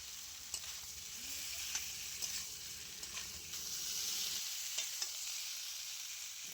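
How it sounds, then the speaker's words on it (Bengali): Fried potato and pointed gourd stir-fried in spice paste, a faint low sizzle with regular sharp scrapes and taps of a spatula against the pan. "এবারে আমি আগে থেকেই খুব ভালো করে ভেজে রাখা আলু পটল দিয়ে আরও বেশ কিছুক্ষণ কষিয়ে নেব।"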